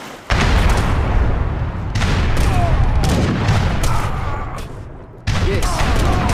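Heavy bombardment of a pirate island base in the game Age of Empires 3, rolling booms and cannon blasts layered into a continuous rumbling barrage that dips briefly before resuming loud.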